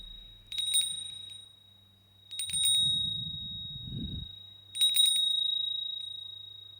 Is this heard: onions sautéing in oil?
no